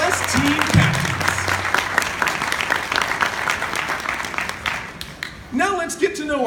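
Audience applause at the Cosmic Quest opening ceremony, honoring astronauts and team captains: sustained dense clapping from a crowd for several seconds, with a voice speaking over the end.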